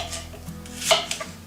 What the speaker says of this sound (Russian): Теперь мы их нарезаем каждую дольку еще на 3 части